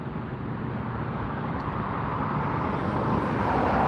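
A JetBlue Airbus A321 arriving at Los Angeles International Airport on a flight from Boston, a steady broadband jet roar building slightly louder as it approaches, with traffic-like background noise and no voices.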